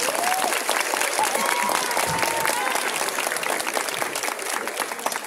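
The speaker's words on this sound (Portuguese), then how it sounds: "Palmas, pessoal!" Loud, continuous audience applause at an adult cosplay contest during a Bon Odori festival in São Bernardo do Campo, with dense clapping and scattered whoops and cheers that taper slightly toward the end.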